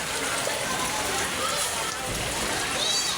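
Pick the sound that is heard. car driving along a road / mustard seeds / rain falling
rain falling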